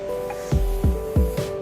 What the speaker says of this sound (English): and then I will spray it on